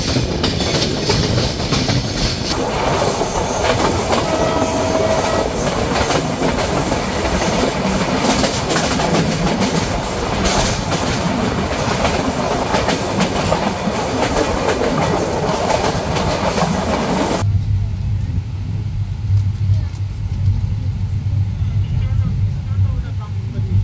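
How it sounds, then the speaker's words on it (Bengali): Silk City Express from Rajshahi rolls into Kamalapur railway station in Dhaka with loud, close rumbling and clattering wheels. Near the end the noise cuts abruptly to a quieter low hum, and voices can be heard. "ট্রেনটি প্রবেশ করলো তার সর্বশেষ যাত্রাবিরতি স্টেশন ঢাকার কমলাপুর রেল স্টেশনে।"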